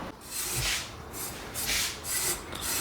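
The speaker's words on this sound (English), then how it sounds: "my mom scraped the pork belly skin there" Skin of a pork belly being scraped with steady, rhythmic rasping strokes, close up, about three passes in under three seconds.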